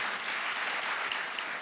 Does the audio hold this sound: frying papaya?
no